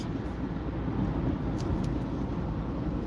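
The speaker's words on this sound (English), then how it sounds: "You hear the cement truck, hear it?" Steady broadband road roar of highway traffic with a cement truck driving close behind, a continuous low rumble throughout without clear peaks.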